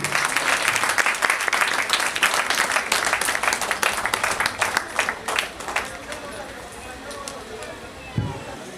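Audience applause at an inauguration ceremony for a society's headquarters building, dense rapid clapping from many hands that fades out toward the end, followed by quieter room noise and a single thump.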